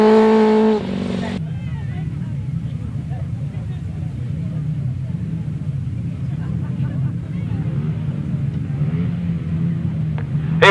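500cc grasstrack racing motorcycles idle and rev on the start line, a steady low engine rumble that holds throughout after a brief burst of speech at the opening.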